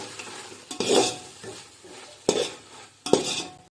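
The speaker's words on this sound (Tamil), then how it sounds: "இப்போ காய்கறியை நம்ம கலந்து விட்டுக்கலாம்" Beans, carrots and green peas for a vegetable dum biryani are stirred in hot oil. Three or four loud scraping stirs of a spoon against the pan break a softer sizzle, close and alone.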